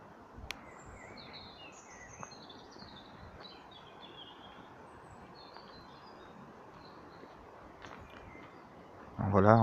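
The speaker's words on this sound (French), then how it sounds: "Pour ceux qui aiment entendre le petit chant des oiseaux et d'une rivière au loin" Faint, sparse birdsong chirps float high above a soft, steady wash like a distant river along a rural walk near the Pont du Diable; a brief louder noise cuts in at the very end.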